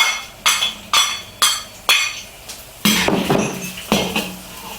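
A spatula clanks against a pan while ginger, garlic and scallion are stir-fried, giving sharp metallic knocks about every half second, then a busier stretch of clatter and scraping.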